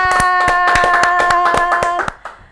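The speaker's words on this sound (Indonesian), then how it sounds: "Tepuk tangan." A person claps their hands in a quick steady rhythm, about a dozen sharp close claps over a sustained musical tone, ending with a couple of scattered taps.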